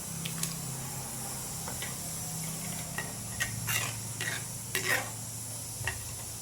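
A spoon stirs carrot kheer in a pot as sugar and dry fruits go in, with soft scraping and clinks over a steady low simmering hiss, close and moderately quiet.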